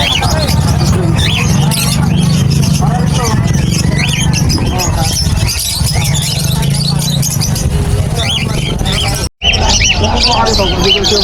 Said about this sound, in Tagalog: tignan natin yung mga ibon ni Boss Khalid